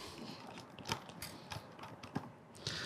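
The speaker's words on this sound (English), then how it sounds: "run my screws through these holes and attach that outside lever" Faint, close ticking and ratcheting clicks repeat irregularly as screws are driven through holes to attach the outside lever of a Saffire LX-I door lock.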